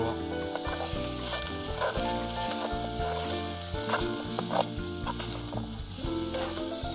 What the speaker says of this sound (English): I love the smell of onion frying in the pan.